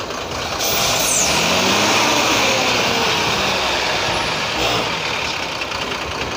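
A Tata truck sits with its engine running, a loud, steady diesel rumble close by, with a brief hiss like an air brake near the start and no talk.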